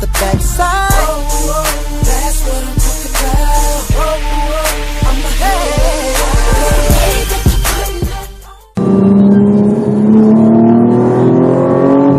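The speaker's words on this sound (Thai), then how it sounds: "ไปไหนครับคุณชา ซิ่งรถ" A race car engine revs hard at close range, a whining tone climbing and dropping through gear changes with sharp clicks and pops, then a steady high drone after a brief cut.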